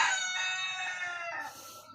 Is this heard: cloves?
no